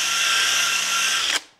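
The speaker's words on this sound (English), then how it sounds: "The gold brush, the intention here is really for polishing and moderate film management" A power tool fitted with a gold brush for polishing, whirring loudly and steadily at high speed before abruptly cutting off and spinning down.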